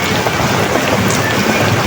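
Heavy rain pours down in a continuous, loud hiss during a tricycle ride, with a low rumble beneath it suggesting thunder.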